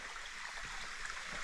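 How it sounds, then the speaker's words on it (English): Water falls down rocks at a waterhole in a national park, a steady, faint rushing hiss heard from a distance, continuous and even with no talk. "the water is falling down the rocks over there"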